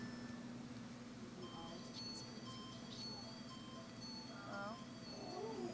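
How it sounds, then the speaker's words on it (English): A phone ringtone set to a Zelda-style tune plays during Spider-Man 2 gameplay, a series of faint melodic beeps and chimes over steady game background sound and a voice talking. "Made my ringtone sound like Zelda because it's one of the pre-made ones"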